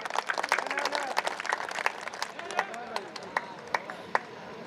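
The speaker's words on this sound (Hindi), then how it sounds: "तालियों के साथ इस्तकबाल कीजिए प्लीज।" Audience applause at a Kul Hind Mushaira poetry gathering in Azamgarh, a dense patter of many clapping hands under a steady crowd murmur, with a few sharper claps standing out near the end.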